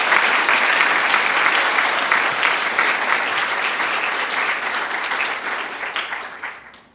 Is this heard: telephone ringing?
no